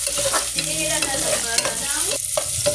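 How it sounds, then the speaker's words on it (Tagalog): Onions sautéing in a pan while being stirred, a steady close sizzle with scraping strokes and occasional clatters of the utensil; no voices. "Igisa, halo-haloin lang po natin yan."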